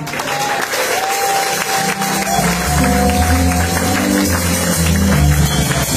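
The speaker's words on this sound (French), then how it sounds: "On fait les acclamations." A church congregation at a Sunday service claps and cheers in a loud, dense wash of applause, with voices and music swelling underneath throughout.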